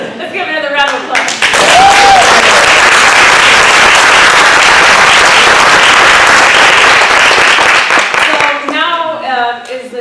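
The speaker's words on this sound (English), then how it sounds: "Let's give another round of applause." A large audience at a live movement performance claps loudly and continuously for several seconds, with talking heard just before the applause starts and again as it fades out.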